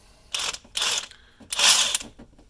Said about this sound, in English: This is a reverse thread bolt, so we are setting our impact on tighten, like we're trying to tighten.